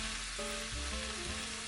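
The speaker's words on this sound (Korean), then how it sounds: "숨이 살짝 죽을 때까지 볶아줄게요." Chopped vegetables stir-fry with Korean blood sausage (sundae) in a hot pan, giving a steady close sizzle with soft stirring scrapes partway through and no one talking.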